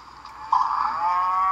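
A single drawn-out moo from a cow in the action game The Incredible Hulk: Ultimate Destruction rings out loud and close, holding steady for over a second.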